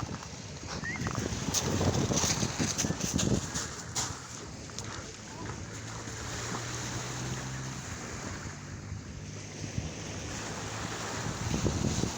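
Sea waves wash onto the shore of the English Channel, a steady rushing surf with wind noise buffeting the microphone throughout.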